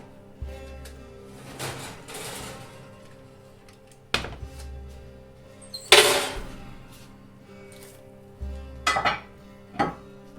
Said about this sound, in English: I'm going to take it out and remove the lid.